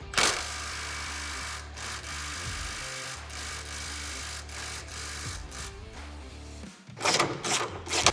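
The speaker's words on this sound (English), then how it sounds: "I like to be able to use an impact to get in here, buzz the hardware out" An impact wrench buzzes out the A-arm hardware on a Kawasaki Teryx KRX 1000, giving steady mechanical whirring runs broken by brief pauses, up close, with a louder burst of rattling hits near the end.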